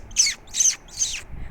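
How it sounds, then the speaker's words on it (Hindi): Three sharp bird squawks in a row, evenly spaced and fairly loud, with brief quiet gaps between them. "उन्होंने अपने सिर के ऊपर बड़ी फड़फड़ाहट और सड़क किनारे घास में हल्की सी आवाज़ में चहचहाहट सुनी।"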